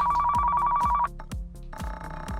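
Telephone ringing in the Car Mechanic Simulator Classic video game: a steady electronic ring tone in repeated bursts, briefly cutting out and resuming, with regular low thumps underneath.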